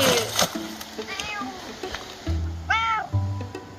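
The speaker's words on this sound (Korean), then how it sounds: "화재 이후 보름 만에 고양이 홍이도 모습을 드러냅니다." A cat meows a few times, rising and falling, at a fire-damaged secondhand bookshop in a forest in Danyang, with a person speaking close by.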